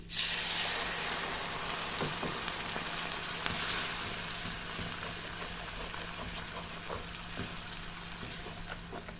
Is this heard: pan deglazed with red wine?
yes